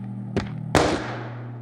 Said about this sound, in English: We also hear a gunshot.